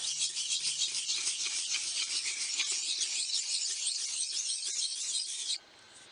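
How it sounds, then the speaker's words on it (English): A Sheffield straight razor's bevel worked in circles on a sharpening stone: a continuous close, gritty rasping rub with a steady rolling rhythm that stops abruptly near the end. "I'm going to start using circles now to set the bevel."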